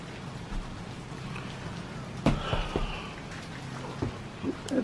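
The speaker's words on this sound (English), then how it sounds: "And it's raining outside." Rain falls outside near a balcony, a steady soft patter with scattered drips and a few louder taps over the constant wash.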